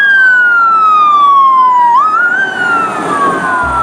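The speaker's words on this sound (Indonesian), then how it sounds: "ini adalah mobil ambulan atau pemadam kebakaran" A toy ambulance or fire truck siren gives a loud electronic wail that glides steadily downward, then swoops up and settles into a wavering tone, heard alone and close.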